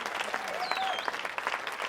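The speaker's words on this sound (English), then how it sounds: "Put a clapping sound here." A short, dense burst of applause added in editing sounds like crowd clapping. It runs steadily at moderate loudness, and a faint whistle-like tone rises and glides through the middle.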